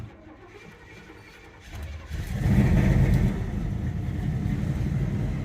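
A 1983 Chevy Scottsdale C10 Squarebody heavy half-ton pickup with its air-fuel mixture slightly off cranks and catches about two seconds in, then settles into a loud, steady, rough-sounding idle close by with no talk.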